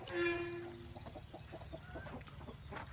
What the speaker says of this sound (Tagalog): punta tayo sa manok